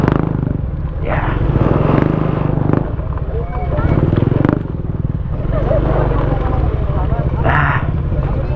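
Motorcycles, a Rusi and a Honda Smash, rev loudly together on a mountain road race, a steady droning engine roar with rising and falling revs, while people talk over it.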